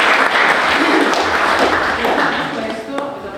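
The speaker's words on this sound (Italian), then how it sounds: "al quale va un grande applauso." An audience at an Italian public event about the port gives a steady round of applause, dense and loud throughout, easing slightly toward the end.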